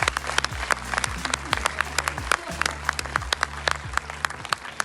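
Audience applause for the young actors at the premiere of the film Marius et les gardiens de la cité phocéenne: dense, steady clapping from a crowd with music playing underneath.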